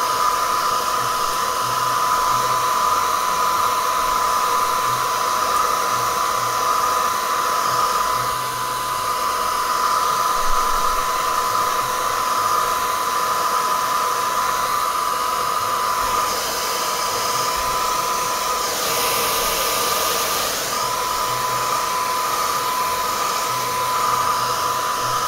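A hair dryer blows hot air steadily and loudly at close range for the whole stretch while a phone battery is being loosened for replacement, with a constant whooshing hiss and motor whine.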